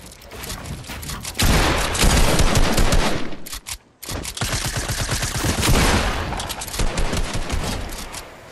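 Video game nose guns fire long, loud, dense bursts of rapid machine-gun shots, one sustained volley, a brief gap, then another continuous stretch of rattling gunfire.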